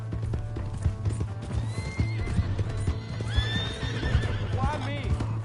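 Hooves clip-clop in a rapid rhythm as a horse gallops and whinnies several times in Red Dead Redemption 2, with voices and game background sounds mixed in.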